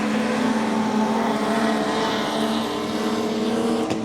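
A pack of modified production race cars roars around a speedway oval, a dense continuous engine drone from several cars at once, loud and steady.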